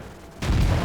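Tank cannon firing in World of Tanks, a single sudden loud boom after a quiet moment, followed by a rumbling tail.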